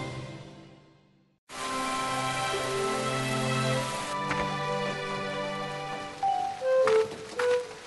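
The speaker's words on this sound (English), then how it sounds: "Little drops came down. Big drops came down. Go away, rain, said Cat." Rain falling in a children's animated story, a steady soft patter heard alongside sustained musical tones and a few brief higher notes near the end.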